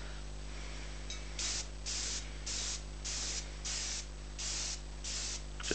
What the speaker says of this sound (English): So what I'm going to do is I'm just going to start spraying it in,